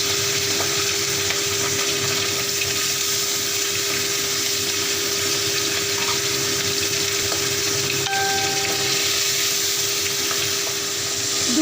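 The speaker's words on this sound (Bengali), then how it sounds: "কড়াইয়ে একে একে মাছগুলো ফেলে দিচ্ছি ভাজবার জন্য" Fish frying in hot oil in a wok: a steady, loud, unbroken sizzle and hiss that fills the whole stretch, with a faint constant hum beneath it.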